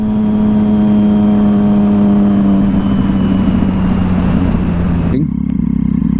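A sprocketed 2011 Triumph Street Triple 675R drones steadily at around 50 mph, with heavy wind rush over the engine note, then the pitch falls sharply near the end as the throttle eases off.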